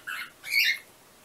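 Two short, high-pitched bird squawks a fraction of a second apart, fairly close, with no talking around them.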